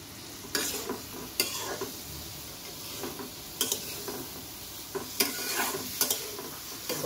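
Spice paste of chili powder, garam masala and chaat masala, loosened with a little water, fries in a pan under a steady soft sizzle, broken by several sharp scrapes and taps as it is stirred. No one speaks.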